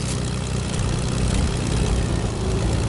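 A propeller airplane in a PS4 video game, a steady dense engine drone with a low rumble that holds at constant loudness throughout, no voices.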